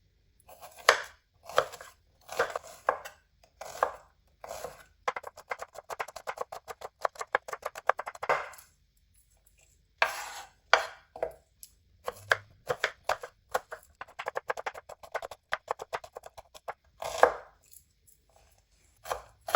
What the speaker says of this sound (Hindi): आपने बारीक बारीक प्याज काटना है।